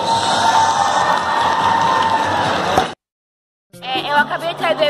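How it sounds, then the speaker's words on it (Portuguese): A crowd at a cosplay contest cheers and claps, a loud, busy mix of shouts and applause for about three seconds before an abrupt cut to silence, followed by close talking. "Uma salva de palmas"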